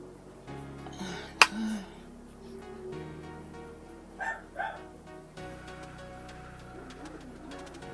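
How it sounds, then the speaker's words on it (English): A dog gives a few barks at a distance, a sharp one near the start and a quick pair in the middle, over a low steady hum with no talk. "He's one of those moods where he's barking"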